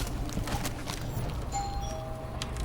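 A doorbell chimes in Dishonored 2, a faint two-tone ring sounding over steady in-game background noise.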